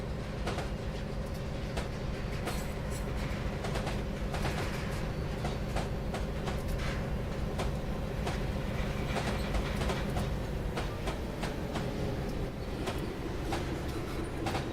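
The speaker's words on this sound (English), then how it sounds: "Nice grindy sounds from the running gear on the train there." Train running gear grinds and rumbles continuously in Train Simulator Classic on the Rio Grande Tennessee Valley route, a dense steady roar with metallic clicks and squeals from the wheels, loud and unbroken with no voices.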